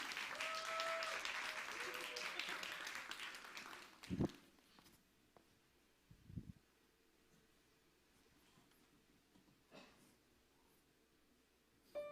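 Applause from a church youth worship congregation welcoming a performer for a special song: steady clapping fills the first four seconds, then fades into a quiet hall with a few scattered thumps and shuffles.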